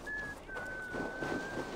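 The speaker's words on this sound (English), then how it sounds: "Stop whistling, man." Character whistling in Assassin's Creed Valhalla, a thin steady whistle held for nearly two seconds with a short break, over low background rumble and faint voices.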